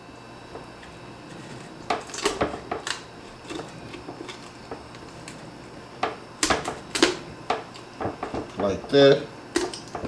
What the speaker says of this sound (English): we're gonna take us some shears. I got 2 of them over here just in case one don't work. We gotta come up this backbone.